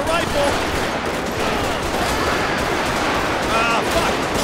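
Rifle gunfire in the video game GTA 5, a dense, continuous rattle of shots filling the whole stretch at steady high loudness, with no clear gaps between bursts.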